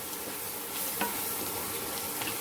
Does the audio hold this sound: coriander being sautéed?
yes